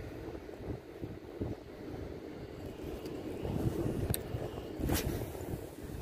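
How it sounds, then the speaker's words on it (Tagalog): Wind gusts against the microphone in uneven waves while fishing in Abu Dhabi, joined by a low rumble and a couple of brief sharp ticks. "May hangin-hangin na eh."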